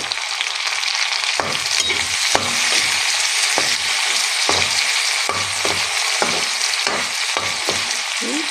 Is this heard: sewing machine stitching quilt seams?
no